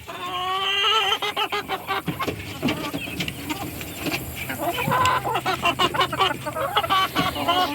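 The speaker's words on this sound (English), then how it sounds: "Now, introducing these two chickens," Two chickens from separate little flocks cluck and chatter up close around a mobile coop and run, with a busy, irregular patter of clucks filling the moment.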